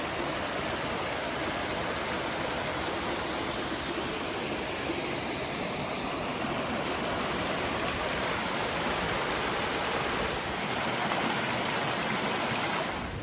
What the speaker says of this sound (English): You can just hear the rushing water.